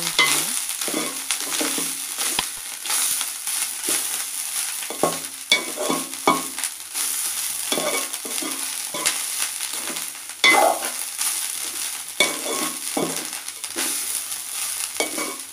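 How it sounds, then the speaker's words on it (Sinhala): Onions, curry leaves and dried red chilies fry in a pan for a polos mallum, a steady crackling sizzle broken by repeated scraping stirs of a spoon, close and fairly loud, with no talking. "රතුළුන් ටික බැදුනට පස්සේ අපි කරපිංචා ටිකයි කරන් මිරිස් ටිකයි දානවා."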